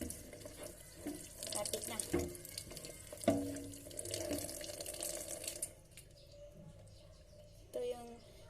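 Water runs from a kitchen tap while milkfish is cleaned, a steady splashing stream into a sink with clinks and handling noises, birds chirping faintly outside, and a voice speaking briefly.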